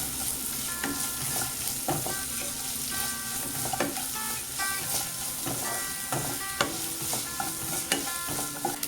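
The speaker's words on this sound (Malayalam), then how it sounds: "ഇനി ഇത് നന്നായിട്ടൊന്ന് വഴറ്റിയെടുക്കാം." Onions with a pinch of salt are sautéed and stirred in a pan for Kerala-style beef fry, giving a continuous close sizzle broken by regular spoon scrapes and knocks.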